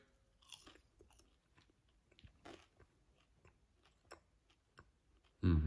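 Burger King plant-based nuggets are bitten and chewed in a series of soft, crisp crunches spaced irregularly over a quiet background, close to the mouth, ending with a louder sudden noise.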